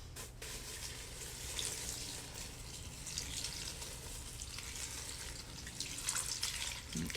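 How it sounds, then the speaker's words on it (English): Water poured over torn newspaper strips to wet them as bedding for a red worm compost bin, a steady splashing, trickling wash lasting several seconds, close and fairly quiet, with no talking. "you take your newspaper strips and you are going to get them wet"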